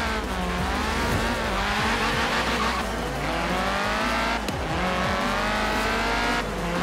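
A car drifting in Forza Horizon 3, engine droning steadily while tires squeal and skid through sliding turns, the pitch bending up and down with revs, loud and continuous without speech.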